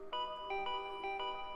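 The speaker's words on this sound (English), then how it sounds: "Oh, the doorbell won't stop ringing." In the Danganronpa V3 video game, an electronic doorbell chimes repeatedly in quick, evenly spaced bursts of bright tones, moderately quiet and alone.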